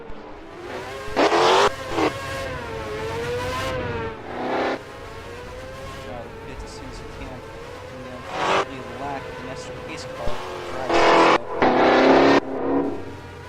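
Several Formula Micro race car engines rev together on a Russian GP circuit in 2023, loud buzzing pitches climbing and falling in repeated synchronized bursts, with short sharp blasts and a steady engine drone between them.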